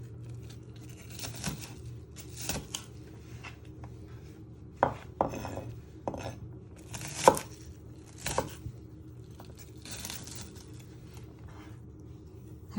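Kitchen knife chops onion on a cutting board for minestrone soup, a dozen irregular, close, crisp strikes spread across the stretch with no voices over them.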